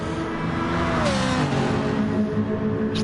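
Ferrari race car engine in Gran Turismo Sport at Laguna Seca, a close revving drone that shifts pitch and rushes past, with another car's whoosh near the end.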